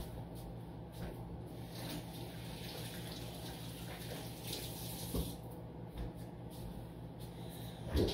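A kitchen tap runs steadily while hands are rinsed under it after handling fresh fruit, a constant hiss of water with brief splashes and shifts in the flow, fairly close and moderately quiet.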